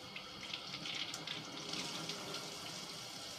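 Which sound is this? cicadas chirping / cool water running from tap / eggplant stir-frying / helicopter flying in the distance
cool water running from tap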